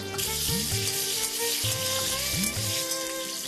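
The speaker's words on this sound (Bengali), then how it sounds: "আলুগুলো তেলের মধ্যে দিয়ে দিলাম, দিয়ে ভালো করে নেড়ে নিতে হবে আলুগুলোকে" Potatoes fry in hot oil with a loud, steady sizzle while they are stirred, and periodic scraping strokes sound close over the continuous hiss.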